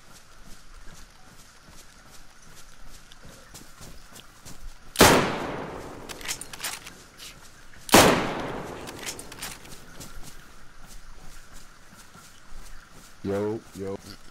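Gunfire in DayZ: two loud, sharp shots several seconds apart, each ringing out against quiet background noise with footstep-like clatter, and a short burst of rapid pops near the end.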